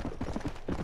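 Rapid hoofbeats of a galloping horse in Red Dead Redemption: Undead Nightmare, a steady clip-clop rhythm pounding close and loud for under a second.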